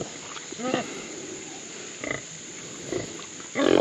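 Pigs rooting in a yard pasture, giving a few short, scattered grunts and snorts at moderate distance over a quiet outdoor background.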